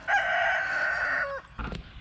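Backyard rooster near a garden enclosure lets out one loud, close crow that holds for over a second and then trails off, followed by a few short clucks and rustles.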